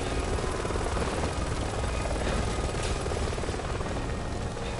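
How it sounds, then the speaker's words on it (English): Helicopter in Resident Evil 6, a steady loud rotor and engine roar filling the whole scene with a dense broadband wash, a faint rhythmic chop underneath and no talk. "Thanks for the cover, Chopper."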